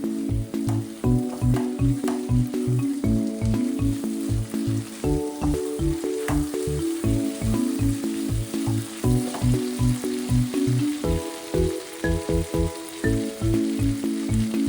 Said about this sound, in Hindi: थोड़ा आंच तेज करके और बढ़िया से फ्राई कर देती हूँ।